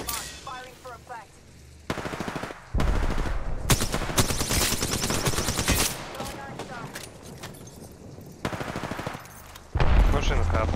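Video game gunfire during a squad battle royale match, with loud bursts of rapid automatic fire separated by short pauses, near and harsh, under a player's talk between volleys.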